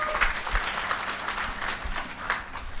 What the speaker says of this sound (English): And give another massive round of applause for our incredible panelists as well.